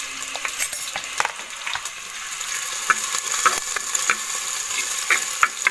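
Brinjal and onions frying in oil in a pan while being stirred, a steady close sizzle broken by repeated scraping and clinking strokes of a spoon against the pan, with no talk.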